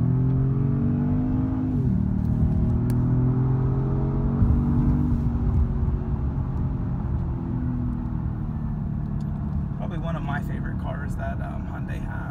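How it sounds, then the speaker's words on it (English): Inside a Genesis G80 Sport, the engine climbs steadily in pitch as the car comes off a ramp and accelerates, with a constant road and wind rumble underneath. "once we're coming off this ramp, we'll get up to speed real quick"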